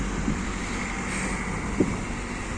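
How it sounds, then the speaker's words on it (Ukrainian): Strong wind in Mindelo, Cape Verde, roars steadily against the microphone in a continuous low rumble, with a couple of faint thumps. "вітер неймовірний"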